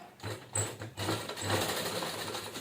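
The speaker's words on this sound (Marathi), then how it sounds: "बघा तसंच त्या दुसऱ्या बाजूने व्यवस्थित अशी शिलाई देऊन घ्यायची" A sewing machine runs in short bursts while stitching a box-type fabric tiffin bag, the quiet, uneven whirring stopping and restarting over a faint background.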